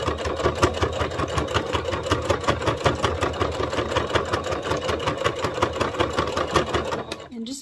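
A sewing machine back stitches a daisy top with a fast, even mechanical chatter that runs steadily, then slows and stops near the end.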